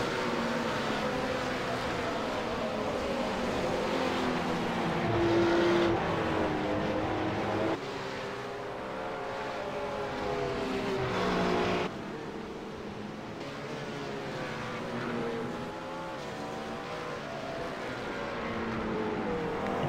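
Two McLaren race cars run side by side in a sim racing broadcast of the 24 Hours of Spa, their engines droning and shifting pitch continuously, with other cars' engine notes layered in throughout.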